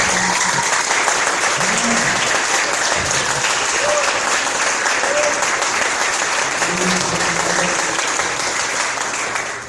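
Church congregation applauding at a worship service, loud and sustained dense clapping throughout, with a few voices calling out over it.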